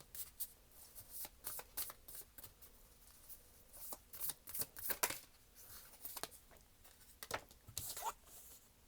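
Tarot cards shuffled and drawn from the deck, a series of crisp riffling slaps and flicks coming in uneven bursts, close and fairly quiet, with no talk.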